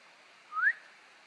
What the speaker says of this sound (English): That was a whistle. I think it came from the creek.